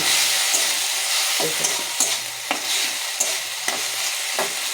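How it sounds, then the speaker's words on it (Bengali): Spice paste with turmeric and salt sizzling steadily in a hot pan while being stirred, with scrapes and taps of the spoon cutting through the constant frying hiss and a brief spoken word. "এখন আমি ভালো করে হলুদ লবণ দিয়ে, স্বাদ মতো লবণ, পরিমাণ মতো হলুদ দিয়ে মশলাটাকে ভালো করে আমি কষিয়ে নিচ্ছি।"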